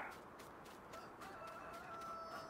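Farm-game chickens in an open-range pen cluck and crow steadily as a faint, continuous loop of fowl noises and ambient game sound.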